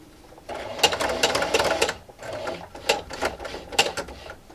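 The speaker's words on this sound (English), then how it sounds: "And just keep sewing" A sewing machine stitches a seam on a fabric wine gift bag in short bursts. The motor hums close and steady, stops briefly, then runs again, and no one speaks.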